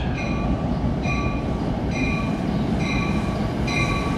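A train rolls along the Main-Bergen Line past Kingsland station in Lyndhurst, New Jersey, bound for Hoboken, with a loud steady rumble and a repeating wheel clatter about once a second, no voices.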